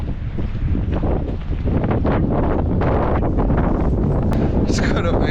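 Strong wind buffeting the microphone on a coastal walk near Workington, a loud continuous roar with gusts, while someone talks through it.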